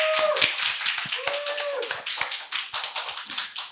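Applause at a book-launch event of a vegan eco-feminist group, a modest audience clapping in separate sharp claps that thin out and become more sparse toward the end, with a faint tonal whistle or squeak in the background.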